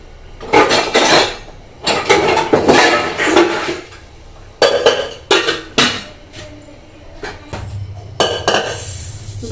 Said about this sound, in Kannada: cooker ತೊಳ್ಕೊಳ್ಳೋಣ first